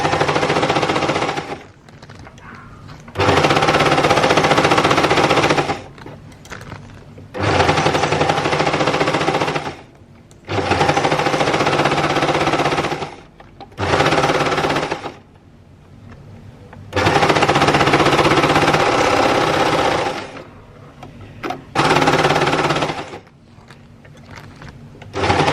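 A sewing machine stitching the inner leg crotch seam of a pair of pants runs in loud, close bursts of rapid mechanical chatter, stopping and starting several times with short quiet pauses between runs.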